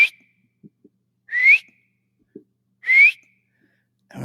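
A person imitates a whistle near a ridge beside a marsh: two clear, rising whistled notes spaced about a second and a half apart, separated by faint soft knocks, with no speech.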